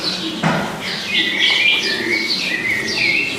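Small birds chirping and calling in a quiet garden in southern Morocco, with bright, repeated short tweets at moderate distance over soft background ambience.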